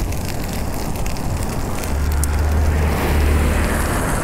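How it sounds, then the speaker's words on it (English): Loud traffic rushing past on a road beside a cyclist, a steady broadband roar with heavy wind buffeting, swelling slightly as vehicles go by. "Just a little annoying with all the loud cars to my left."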